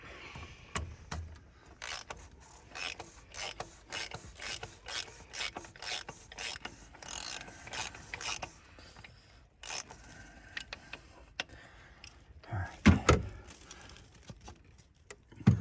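Ratchet wrench working the oil filter cap on a 2006 Ford F350, a quiet series of short clicking and rasping bursts with brief pauses between strokes, ending in a couple of louder knocks.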